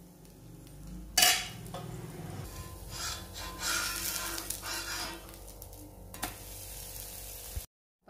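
Pearl millet dosa batter poured onto a hot griddle stone and cooking, with a steady frying sizzle and scraping rub throughout, a sharp clank near the start and another brief knock later.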